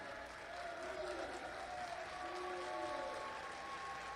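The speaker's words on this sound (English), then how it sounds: "I wonder if that's applause for the mat, the corresponding mat, or ironic applause" Crowd at a university karate championship applauds in a soft, steady patter heard from a distance, with a commentator's voice and other faint tones running over it.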